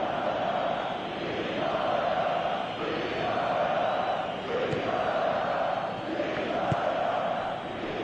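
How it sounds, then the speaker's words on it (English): Stadium crowd in the football video game PES 2018 roaring steadily throughout, a dense swelling wall of cheering and chanting urging a player to shoot, with a couple of sharp thumps on top. "Crowd calling for him to shoot."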